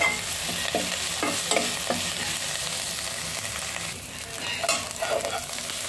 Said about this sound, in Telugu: ఇది బాగా వేగిన తర్వాత స్టవ్ ఆఫ్ చేసుకోవాలి.